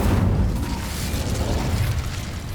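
A fiery Incendio spell cast in Hogwarts Legacy gives a loud, booming burst with a heavy low rumble that holds steady for a couple of seconds.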